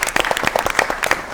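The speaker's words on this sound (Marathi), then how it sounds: "सगळ्यांसाठीच आपण एकदा टाळ्यांचा गजर करूया" Audience applause at a Doordarshan Mumbai special program honouring retired officials, a loud, close burst of many hands clapping with sharp individual claps standing out throughout.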